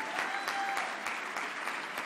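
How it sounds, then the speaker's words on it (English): An audience claps steadily at the 2015 NATAS Northwest student awards ceremony, a dense, even patter of many hands, fairly quiet and without voices. "Please give Andrew another round of applause"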